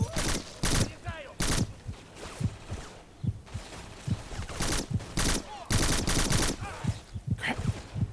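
Video game Black gunfire: repeated bursts of loud shots and automatic fire crackle in irregular clusters, with brief lulls between volleys and faint voice-like sounds in the mix.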